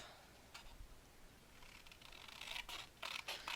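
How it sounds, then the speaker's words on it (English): Scissors cutting a piece of paper for a handmade mini album, a few faint close snips and scratchy paper rasps growing slightly louder toward the end. "And then I'm going to cut this piece off."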